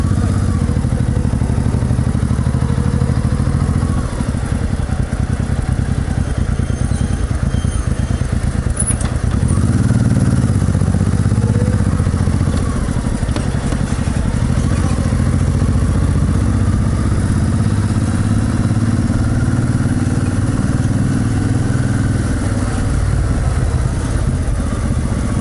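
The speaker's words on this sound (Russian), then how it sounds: "Мотоциклы редкость, в основном все скутера." Many scooters and a few motorcycles buzz and idle close by through the streets of a European resort town, a loud continuous rumble of small engines and clatter that keeps going the whole time.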